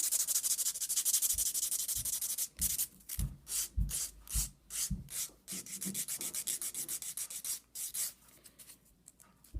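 Rhythmic rasping of a nail file scraping back and forth over acrylic nails, close and steady, with quick repeated strokes.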